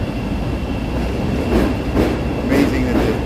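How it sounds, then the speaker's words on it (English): A Chicago elevated Green Line train rounds a tight 90-degree street turn, rumbling loudly and continuously with clacking wheels and brief high wheel squeals. "Amazing that the train can navigate these tight spaces, the tight turns there."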